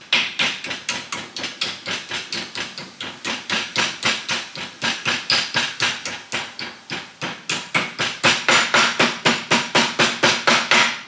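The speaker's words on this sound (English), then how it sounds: "Use our metalworking hammer" Rapid, steady hammer blows from a metalworking hammer striking metal mounting tabs clamped in a vise in a home garage, roughly four sharp ringing strikes per second, loud and close, continuing without talk.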